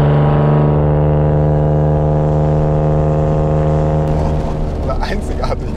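A BMW 850CSi engine holds a loud, steady drone, then gets rougher toward the end. Excited talk comes in over it.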